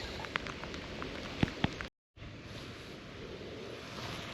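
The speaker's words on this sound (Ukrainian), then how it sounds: "Дощ зараза посилюється." Rain steadily intensifying over the Dnipro river during a fishing trip, a dense, continuous patter of drops on the surface with a few sharper nearby taps, heard alone with no talk.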